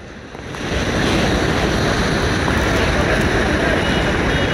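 Floodwater surges under a bridge during Typhoon Crising, a loud, steady roar of rushing water that builds in the first second and then holds constant, with wind buffeting the microphone.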